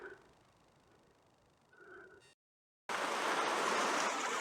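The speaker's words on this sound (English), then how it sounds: "it's hardly Niagara Falls, but a very pleasant little waterfall all the same." A small waterfall in Mid Wales, UK, fed by plenty of rain, gives a steady broadband rush of falling water, heard close and loud after a brief gap, with fainter flowing water before it.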